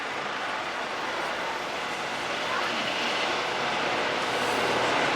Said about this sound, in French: on accueille en même temps l'hélicoptère fédéral qui arrive sur le tarmac